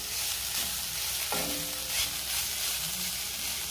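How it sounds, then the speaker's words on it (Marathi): A tomato, onion and coconut mixture sautés in a pan with a steady soft sizzle and occasional stirring scrapes, close and continuous throughout. "मी पुन्हा व्यवस्थित परतून घेणार आहे, म्हणजे टोमॅटो चांगला शिजेल, मऊ होईल"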